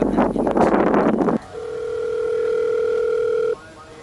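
After a burst of noisy rustling, a telephone dial tone sounds when calling customer care, a steady, clear electronic hum lasting about two seconds before cutting off abruptly.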